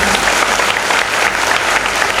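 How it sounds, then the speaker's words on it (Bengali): Loud, dense audience applause at a school youth leadership event in Taki, a full crowd clapping continuously and evenly throughout, close and strong with no talking. "তাহলে আরেকবার হয়ে যাক না জোরে হাততালি।"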